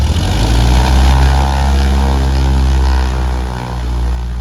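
A Cessna 172 propeller aircraft sits at a hangar ready to start, its engine and propeller running with a steady, loud, close drone that holds through the whole stretch, dipping slightly near the end.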